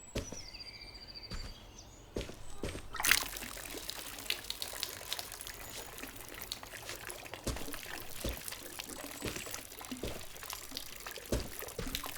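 Water pours and trickles steadily from a can onto houseplants in the PS5 game The Berlin Apartment, a soft continuous flow with a few clicks and taps, moderately quiet with no talking.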